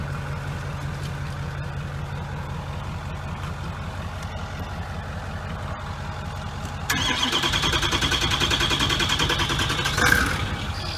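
A Ford 6.0 diesel truck engine with a running problem cranks with a steady rhythmic churn for several seconds, then catches and settles into a loud, rough diesel idle, with a brief clatter near the end.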